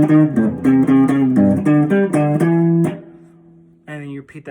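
Guitar picking out a simple opening riff, a quick run of plucked single notes repeated in a steady rhythm, close and clear, ending on a held ringing note.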